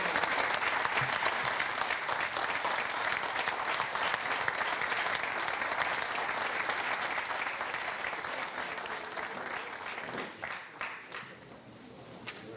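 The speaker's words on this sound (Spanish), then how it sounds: "un fuerte aplauso para nuestro querido" Sustained audience applause fills a conference hall welcoming science communicator Manuel Toharia at a 50th-anniversary lecture series, loud and dense throughout before thinning into scattered claps near the end.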